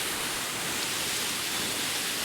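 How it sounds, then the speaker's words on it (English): A big waterfall in Issue Clough in the Peak District's Dark Peak, with plenty of water pouring over it in autumn, gives a steady, loud, broadband rush with no breaks and no voices. "This is a big waterfall in Issue Clough."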